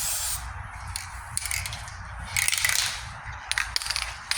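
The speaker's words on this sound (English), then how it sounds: "I got plenty in this can. I mean, hear that rattle?" Aerosol spray paint can hissing steadily close up during rust repair on a 1998 Ford Ranger tailgate, with bursts of spray and a few metallic rattles from the mixing ball.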